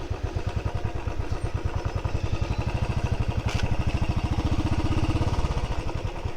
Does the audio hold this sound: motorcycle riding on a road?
yes